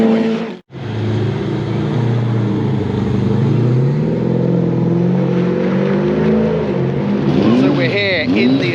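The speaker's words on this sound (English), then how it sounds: "Some of them that are flying around the track already." Race cars lapping the track at Donington Park Circuit, loud engines droning and revving continuously with cars passing by, talk heard over the engine noise.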